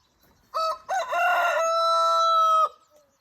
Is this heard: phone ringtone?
no